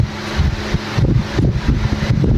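A nearby electric fan runs with a steady, close whirring rush and gusty, wind-like surges throughout, with no voices over it.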